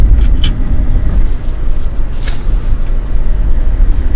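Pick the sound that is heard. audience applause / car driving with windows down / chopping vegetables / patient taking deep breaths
car driving with windows down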